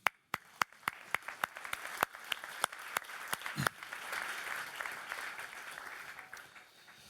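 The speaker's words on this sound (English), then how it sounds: "applaud for yourself, please" Applause from a conference audience at a Swiss internet peering event, opening with a handful of separate sharp claps that quickly swell into a dense, moderate round of clapping before fading out.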